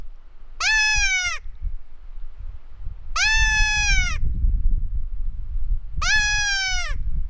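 A hand-blown mouth predator call gives three drawn-out, bleating, wavering cries spaced a few seconds apart, loud and close, with gentle outdoor rumble and wind between them.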